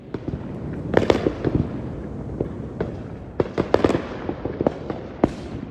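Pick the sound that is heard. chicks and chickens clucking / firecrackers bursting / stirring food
firecrackers bursting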